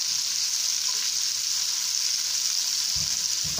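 Asparagus spears fry in a slightly sticking pan, producing a bright, even sizzle throughout and a couple of soft knocks near the end.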